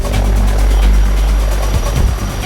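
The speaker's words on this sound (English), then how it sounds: "The helicopter is very agile and can fly advanced maneuvers such as looping, rolls, etc." An Mi-28N attack helicopter flies by loudly, its deep rotor thump and engine roar steady and dominant throughout with a fast rhythmic blade chop.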